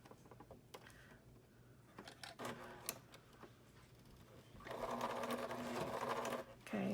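A sewing machine stitching a fabric face mask, running in short bursts with pauses between, then a longer steady run near the end, close and moderately loud.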